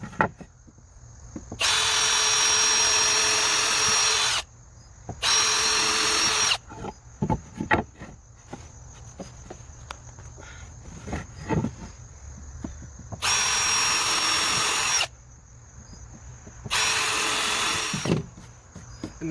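A power drill drives screws into wooden boards for a fish tank stand, giving four loud whirring runs of about two to three seconds each, separated by quieter handling clatter and a faint steady background whine.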